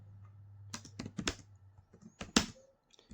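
Fingers typing on a computer keyboard, a short burst of several close, sharp key clicks, then a pause and a few more distinct taps, with a soft background hum.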